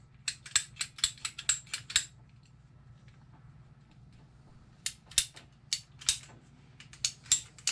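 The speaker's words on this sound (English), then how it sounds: "So now we need to cut another little piece." A small piece of plastic condensate pipe for a Rinnai on-demand water heater neutralizer kit being cut with a ratcheting cutter, sharp clicking strokes in two close bursts separated by a quiet pause.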